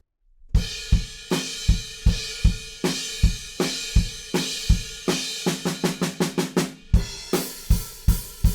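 A drum kit plays a fill leading back into the verse groove of a song: loud, close, evenly spaced kick and snare hits with crashing cymbals, a rapid burst of strokes near the end, no voice.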